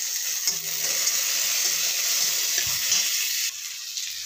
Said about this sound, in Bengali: তেলে কালো জিরে, পেঁয়াজ আর টমেটো দিয়ে ভালো করে